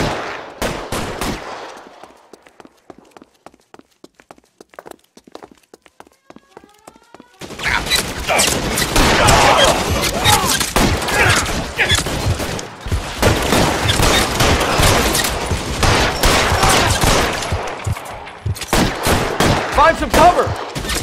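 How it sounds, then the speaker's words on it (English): Gunfire in the video game L.A. Noire, with scattered single shots at first, then a sustained heavy barrage of rapid, overlapping shots and bursts from about a third of the way in, loud and close, with brief gaps between volleys. "Suppressing fire!"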